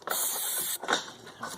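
Silicone lubricant spray hisses from a can in a few short bursts onto a new fuel pump gasket, close and fairly quiet.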